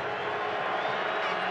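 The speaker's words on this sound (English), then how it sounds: "Crowd really into it here at McMahon." A stadium crowd roars steadily at a CFL football game between the Montreal Alouettes and Calgary Stampeders at McMahon Stadium, a broad sustained cheer with a voice speaking over it.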